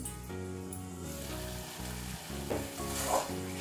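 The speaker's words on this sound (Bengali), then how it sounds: "দিয়ে আবার একটু জলের ছিটে দিয়ে এটা কষিয়ে নিচ্ছি।" Spice paste frying in a pan for dhokar dalna after a splash of water, giving a continuous close sizzle stirred now and then, heard alongside a sustained tonal background and no voices.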